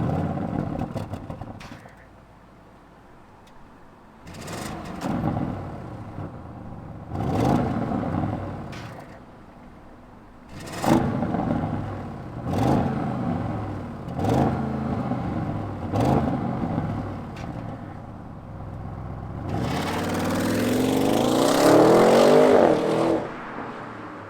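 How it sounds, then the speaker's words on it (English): A 2022 Audi RS6 Avant twin-turbo V8 fires up, then gives a series of sharp revs, about six distinct blips with a sustained roar near the end, heard up close with no talk. "let's fire up this V8 twin turbocharged engine and hear what it sounds like"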